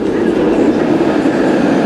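A train at the Congo train station at Busch Gardens Tampa Bay gives off a steady, close, rumbling roll that stays even throughout.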